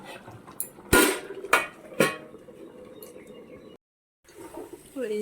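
Three sharp metallic clanks ring out close and loud as a lid is set on a pot of curry cooking fish head with taro, followed by quieter clatter, a brief silence, then low kitchen noise.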